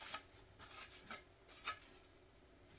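Faint, close rubbing of sandpaper over a plastic model 1957 Cadillac Eldorado Brougham body, in short back-and-forth rasping strokes that come in soft bursts, with no talking.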